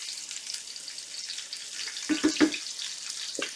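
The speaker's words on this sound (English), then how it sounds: "Don't you just love that sizzling sound?" Continuous hissing sizzle of food frying in a pan, with a few low knocks and clatters partway through.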